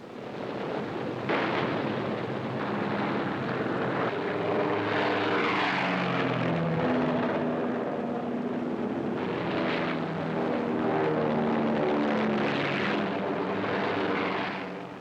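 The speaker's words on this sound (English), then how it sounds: "Heavy long-range bombers were becoming available in increasing numbers." Heavy long-range World War II Allied bomber aircraft engines drone continuously and loudly, a dense rumbling propeller roar with wavering overlapping tones as several planes fly overhead.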